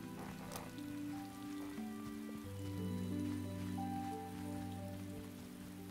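Soft steady rain patter in the video game Paleo Pines, under sustained tonal game music with shifting low notes; no talking.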